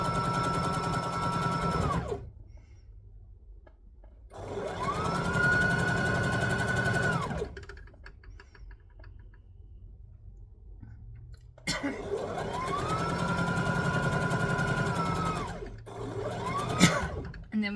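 A sewing machine stitches a lap quilt in two long bursts of steady whirring, each a few seconds long and separated by quiet pauses, close and fairly loud with the motor pitch rising and falling.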